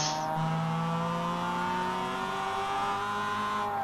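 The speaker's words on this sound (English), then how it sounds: "oh, you can hear those tyres" Roadster race car tyres squealing during a race, a steady high screech over a droning engine, moderately loud and continuous with no talk.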